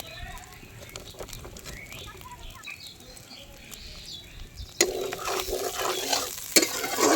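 Jackfruit frying in oil with spices in a wok: a quieter stretch of faint clinks and stirring, then a louder burst of sizzling hiss as the oil goes in, with scattered utensil knocks near the end.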